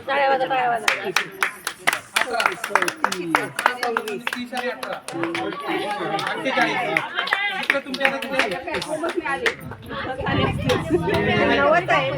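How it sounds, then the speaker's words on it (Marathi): At a Paani Foundation seed-germination training for farmers in Ralegan Siddhi, a group bursts into hand clapping, with a busy mix of claps and crowd chatter. "टाळ्या वाजा"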